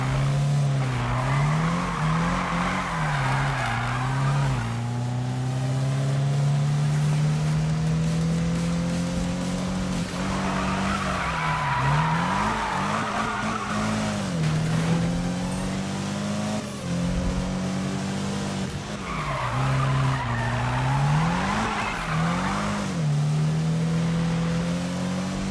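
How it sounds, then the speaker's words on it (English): Car tires squeal and skid repeatedly in the Need for Speed 2015 racing game on PC, long wavering screeches rising over a loud, steady engine roar, returning in three drawn-out bursts with no talk. "Sound of the tires squealing"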